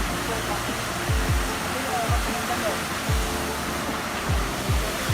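A small waterfall in Santol, La Union makes a steady, full rush of water throughout, with a few low thumps underneath.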